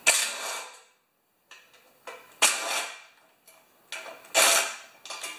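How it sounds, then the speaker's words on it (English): A ratchet wrench backs 5/16 nuts off a Tecumseh small engine cover in close, sharp bursts of rapid clicking separated by short pauses. "Now I'm going to take these 5/16 nuts off of here."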